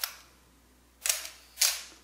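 Film camera shutter set to half a second: a sharp mechanical click as it opens, then a second click about half a second later as it closes, both crisp and close in a quiet room.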